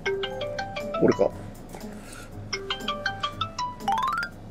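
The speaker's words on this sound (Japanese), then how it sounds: "ちょうどその工場から電話がかかってきまして" A phone rings with an incoming call at a refrigerated food factory, playing a bright melodic tone loudly throughout while a person speaks briefly over it.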